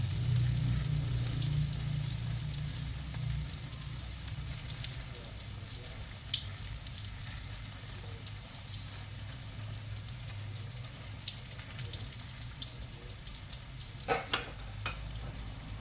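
An omelette with acacia leaves and minced pork fries gently over low heat in a pan, giving a soft, steady sizzle with occasional light crackles and a brief louder scrape or pop near the end, no voices.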